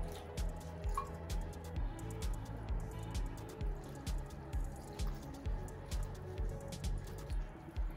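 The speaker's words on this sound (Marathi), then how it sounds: "ते थोडेसे थंड पाण्याने धुवून घ्यायचे." Cooked noodles rinsed under cold water for veg Hakka noodles, giving steady dripping and splashing with soft squishy handling sounds, close and continuous with no talking.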